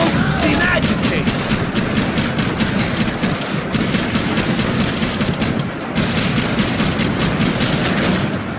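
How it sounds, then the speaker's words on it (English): Dense, relentless gunfire in the Max Payne 3 video game, rapid overlapping shots and bursts forming a loud, continuous barrage with scattered booms. "I can't concentrate with bullets whizzing past my head."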